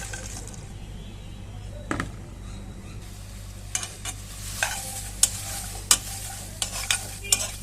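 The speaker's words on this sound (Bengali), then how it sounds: "এভাবে হালকা করে আমি কচু ফুলগুলো একটু ভেজে নেব" Taro flowers fry lightly in a wok over a gas flame with a steady close sizzle, while a spatula scrapes and stirs in a scatter of sharp knocks that grow more frequent toward the end, with no voice over it.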